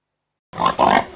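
Pig grunting in two short, loud bursts close to the microphone, after half a second of silence; the pig is kept indoors in a house with a bed.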